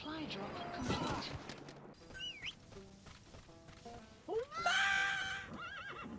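A horse whinnies loudly with a rising and falling neigh amid game sounds, thumps and background speech, from Metal Gear Solid V on PS3.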